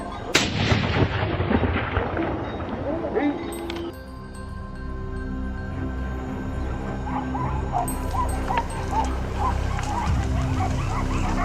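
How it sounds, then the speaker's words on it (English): A hunting rifle fires a single loud, sharp shot at a wild boar on farmland at the start, followed by a longer stretch of dogs yipping and whimpering with some voices in the background. "The rifle barked as it crossed the clearing,"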